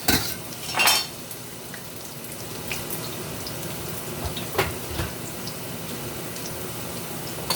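Garlic frying in hot oil in a pot in an outdoor yard-style Jamaican kitchen, a steady low sizzling hiss running throughout with a couple of louder clatters near the start and scattered small pops, no talking.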